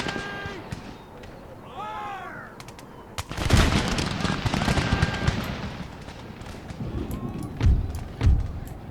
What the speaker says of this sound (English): Give me the volley, lads.